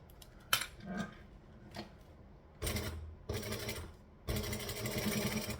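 A sewing machine stitches a seam with an eighth-inch seam allowance on a Sallie Tomato Lucky Penny project, running in several short close bursts separated by pauses.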